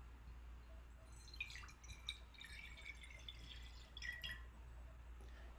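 Water poured out during a worship service, a faint, soft trickle with light dripping that runs steadily for several seconds against a quiet room.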